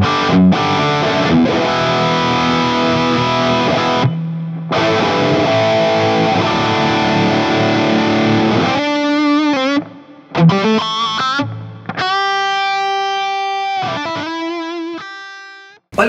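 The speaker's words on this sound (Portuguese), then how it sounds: "Olha o som desse timbre sem o delay, só com o reverb, para você sacar como ficou." Solo electric guitar with a distorted lead tone drenched in large plate reverb and no delay, playing sustained notes and phrases that ring out alone, loud and close, with brief gaps between lines.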